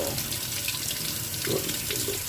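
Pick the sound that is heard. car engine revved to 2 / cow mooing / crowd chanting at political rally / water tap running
water tap running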